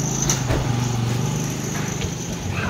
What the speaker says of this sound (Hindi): अभी ये गाड़ी निकाल रहा है